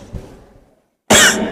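A single harsh cough bursts out loudly and close after a brief silence, during a school tuberculosis skit in which a patient suffers a persistent two-week cough.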